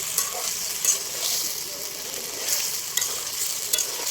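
Food sizzling and frying in a pot at an outdoor children's picnic cookout, with a steady hiss and occasional scraping stirs close by, no talking.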